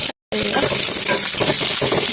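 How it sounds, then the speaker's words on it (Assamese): Bitter flower petals frying in a pan give a loud, steady sizzle with crackling oil that runs on after a brief silent gap at the start. "ভাজি আছোঁ"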